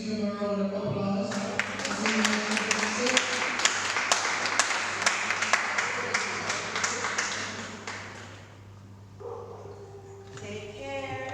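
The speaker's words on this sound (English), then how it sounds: "Please give him a round of applause." An audience at a poetry and storytelling open mic applauds steadily for several seconds, a dense wash of clapping that thins and fades as a voice returns at the end.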